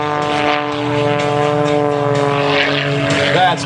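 A 400-horsepower propeller aerobatic plane performs rolls and turns at an air show in Fort Smith, with a loud, close, steady buzzing drone whose pitch wavers slightly throughout.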